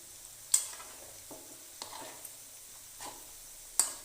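Koftas made from green chickpeas frying in oil, gently stirred with a spoon: a quiet sizzle broken by a few soft scraping clinks spaced across a few seconds.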